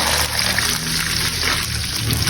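A cup of water poured into a cooking pot of fish stew with tomato sauce, making a close, steady splashing trickle that fills the whole moment.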